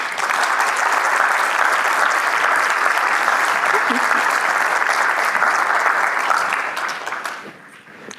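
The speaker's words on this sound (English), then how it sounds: "Give her a round of applause" A large conference audience gives sustained applause after a talk, a loud, dense wash of clapping that holds steady for several seconds before tapering off at the end.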